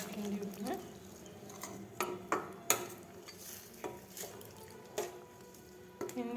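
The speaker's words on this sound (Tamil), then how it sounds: "தேவையான அளவு உப்பு போட்டு நல்லா கிண்டி விட்டுருங்க." A spoon stirs fenugreek kuzhambu, a tamarind curry, in a metal pot, with a series of sharp scraping clinks and soft wet squishes at irregular intervals, fairly quiet and close with no talk.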